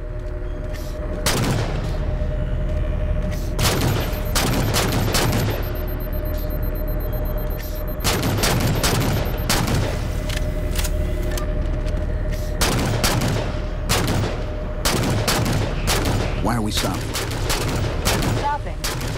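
Heavy gunfire aboard a ship in Halo 4, with dense bursts of shots and booms over a constant rumbling drone, loud and close and continuing throughout.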